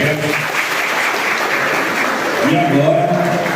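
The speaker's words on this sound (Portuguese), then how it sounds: "Uma salva de palmas para os colegas." Sustained applause from the audience at a municipal conference in Barra da Estiva, Bahia, steady, loud and dense throughout, with some voices mixed in.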